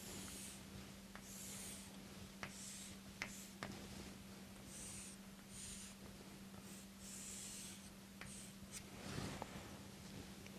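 Pen strokes on paper as a beam cross-section is drawn by hand, faint scratchy bursts of writing coming and going over a low steady electrical hum.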